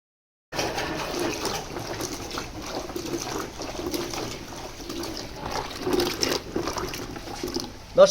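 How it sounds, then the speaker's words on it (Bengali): Freshly harvested farm lemons are rinsed under running water, producing a steady close splashing gush that continues without a break, with faint handling noise mixed in. "একটু ধুয়ে নিতেছি একটু জায়গায় জায়গায় ময়লা আছে লেবুর মধ্যে ভালো করে ধুয়ে নিতেছি"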